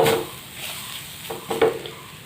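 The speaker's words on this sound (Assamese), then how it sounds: "ইয়াতে মই নাৰিকলখিনি এনেকৈ ভাজিম।" Grated coconut being fried and stirred in a hot pan, with a few quick spatula scrapes and a light sizzle, the loudest stroke near the end.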